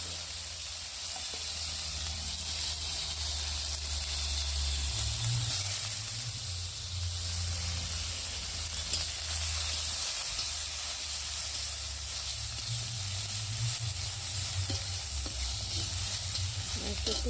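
A dry red chili and chopped onion sizzle in hot oil for a fish curry, a soft, steady frying hiss with occasional stirring, fairly quiet and without talk.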